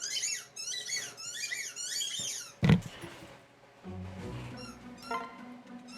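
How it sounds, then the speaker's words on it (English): In the Fire Emblem Awakening video game, a squeaky toy gives a run of quick high squeaks, followed by a sharp thump and then lower game music and effects, all without speech. "listen to this squeaky toy."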